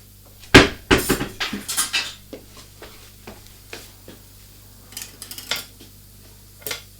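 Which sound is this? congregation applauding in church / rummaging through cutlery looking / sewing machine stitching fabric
rummaging through cutlery looking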